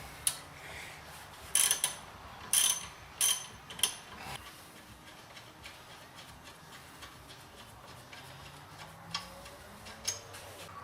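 A ratchet loosens the bottom bolt of a brake caliper sliding pin on a Nissan S14 in a tight spot, heard as a few short bursts of quiet clicking early on, then faint scattered metallic taps.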